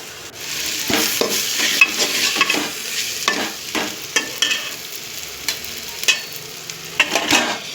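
Frying in a pan until browned red, a steady close sizzle with repeated scraping stirs of a spatula at irregular intervals, no voices.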